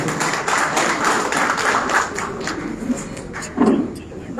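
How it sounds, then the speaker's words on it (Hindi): Attendees at an outsourced employees' federation meeting give a round of clapping, a steady patter of hands at moderate loudness lasting several seconds, with some shuffling and a thud near the end. "निखिल जी जोरदार तालियों से इसका स्वागत करें।"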